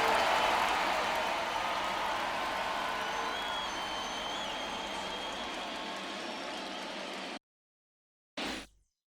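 A stadium crowd roars and cheers steadily before World Series Game 1 between the LA Dodgers and NY Yankees in MLB The Show 24, a dense, loud wash of noise that fades slightly, then cuts out with a brief burst near the end.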